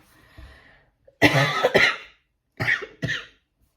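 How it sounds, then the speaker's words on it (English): A few raspy coughs close by: a rough double cough, a pause, then two shorter coughs, with faint breathing before them. "I can't shift this cough"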